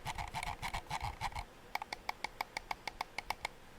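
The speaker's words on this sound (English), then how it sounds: "Scroll wheel." The scroll wheel of a Vancer Thrash gaming mouse turns step by step, making a steady series of small, evenly spaced ratcheting ticks up close, after a brief burst of softer rustling.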